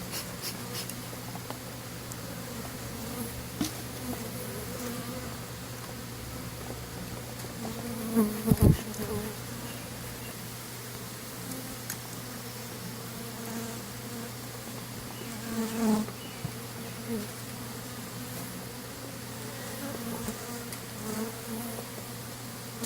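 Steady, dense buzzing of many honey bees around a hive being smoked and lidded, continuous throughout with a few brief louder bumps and knocks partway.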